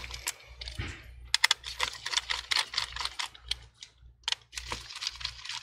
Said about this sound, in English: Remove the screws.